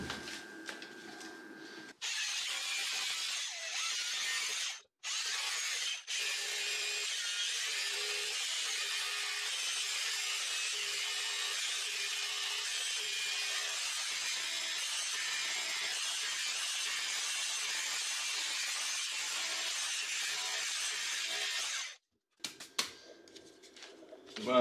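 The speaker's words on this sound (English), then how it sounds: "We'll drill out the center, and then we'll use a chisel bit, but it'll be a bit noisy for a second." Power drilling and chiseling into brick with a chisel bit to chase out a socket box, a loud continuous grinding whine held for about twenty seconds with brief breaks, close by.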